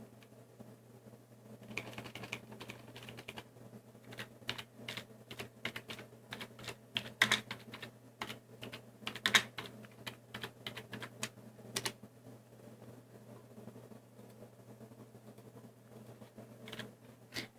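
Someone types on a computer keyboard in quiet bursts of light, rapid clicks with short pauses between them, close but faint over a low, steady electrical hum.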